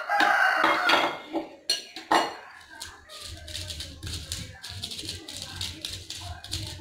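Peanuts are ground in a stone mortar and pestle, with sharp clacks and knocks of stone followed by rhythmic scraping and grinding, while a rooster crows and chickens cluck in the background.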